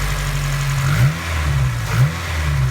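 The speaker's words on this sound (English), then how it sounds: "I love the sound of this thermal research and development 3-inch catback." A boosted Honda Civic EG idles with a deep exhaust burble through a 3-inch catback and gives two short revs about a second apart, close and fairly loud with no talking.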